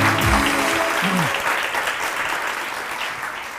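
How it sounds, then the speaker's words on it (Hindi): A studio audience on a TV morning show claps in sustained, dense applause that slowly fades, with a brief voice over the opening. "थोड़ी सी तालियां वालियां ज़्यादा बजा दें"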